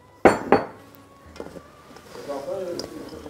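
A container is picked up and handled in a home kitchen, with two sharp clinks of dishes up front followed by lighter knocks and scraping, and quiet talk in the background.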